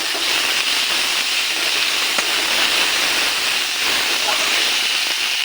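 Potatoes sizzle loudly in hot oil with ginger, garlic and green chilli paste, a dense, continuous frying hiss held close and steady throughout.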